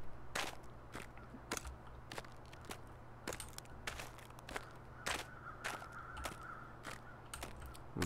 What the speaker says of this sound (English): Those birds off in the background.